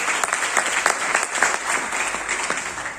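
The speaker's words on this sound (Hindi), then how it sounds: "आपकी जोरदार तालियों के साथ।" Enthusiastic audience applause at an RCM business seminar, dense steady clapping from a large crowd with a few louder individual claps standing out, no speech.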